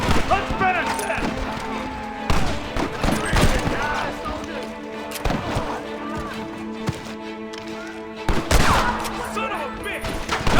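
Rapid gunfight in Red Dead Redemption Remastered, sharp close shots and volleys cracking repeatedly amid shouting voices, loud and continuous with heavy punchy bursts.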